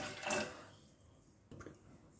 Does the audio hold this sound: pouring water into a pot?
yes